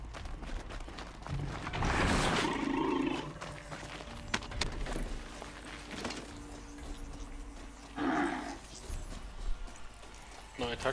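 Horse-like machine creature from Horizon Zero Dawn moving nearby, with clip-clop footfalls and low growling, mechanical roars under a voice speaking in the foreground.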